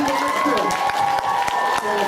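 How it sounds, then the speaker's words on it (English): An audience at a meeting claps, with scattered hand claps and crowd noise close by, and voices talk over the applause. "let's give a special round of applause to Devin Phaneuf"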